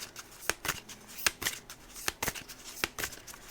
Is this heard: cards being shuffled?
yes